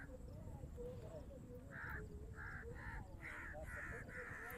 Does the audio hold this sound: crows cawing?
yes